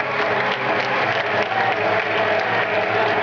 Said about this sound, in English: Give him a big round of applause, Pranit.